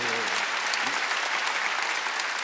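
Loud, sustained applause from a large church congregation at a Wednesday worship service fills the room, dense and even throughout, with a brief voice trailing off at the start.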